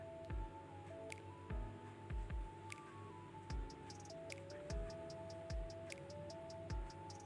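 Grated carrots sautéing in a pan, stirred with soft, wet squishing strokes at a steady, unhurried pace, set against a quiet background with a faint steady ticking and a low hum.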